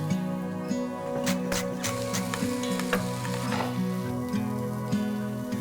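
Steak and crushed garlic sizzle in a hot pan, a steady close frying hiss with a few crackles and scrapes over a low hum, no talk.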